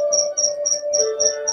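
A cricket chirps in steady, evenly spaced high-pitched trills, close and clear over a faint background tone.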